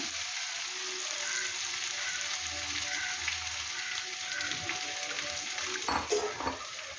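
Chopped jackfruit frying in ghee in an uruli gives off a steady close-up sizzle, with a few clinks and stirring knocks near the end.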